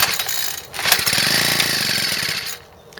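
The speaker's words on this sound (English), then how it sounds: "as you can see, it starts right up and shuts off again" A Craftsman 26cc four-stroke rototiller engine with a carburetor fault is pulled over. It catches with a sharp rattling putter and runs roughly for about a second and a half, then dies away.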